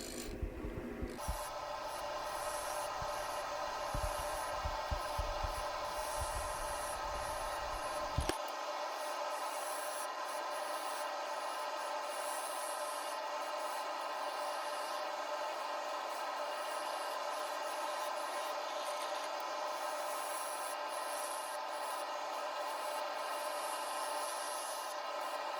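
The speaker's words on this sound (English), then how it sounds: "For that, I'm starting with the bowl gouge." Bowl gouge cutting a wooden bowl blank on a lathe while truing it up, a steady continuous rubbing rasp running throughout, with a rougher, louder chattering stretch in the first few seconds before it settles into an even drone.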